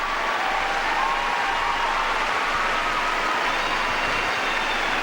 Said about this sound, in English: Rapturous applause